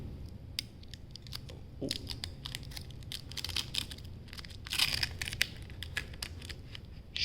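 Protective plastic film being peeled off new PC components during a build, giving soft crackling tears and light crinkles in short bursts, close to the mic, with a brief exclamation from a person.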